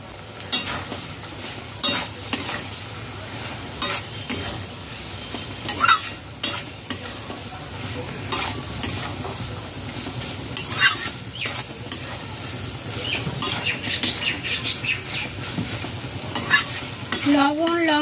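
Potatoes fried in a coconut spice paste are stirred steadily in a pan, a continuous sizzle broken by scraping strokes of the spoon throughout, close and moderately loud with no talking.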